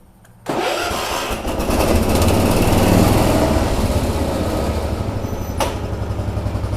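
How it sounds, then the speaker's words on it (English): A Cub Cadet 1210 hydrostatic garden tractor engine catching after a quiet moment, then running loud and close with a steady, slightly pulsing mechanical drone. "Now I do have the tractor running right now."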